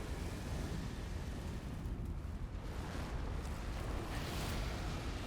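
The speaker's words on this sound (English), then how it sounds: "Oh, explosion." A rumbling explosion in Elden Ring: Shadow of the Erdtree, a dense, continuous low roar with crackling bursts that fills the whole stretch at steady loudness, with no talk over it.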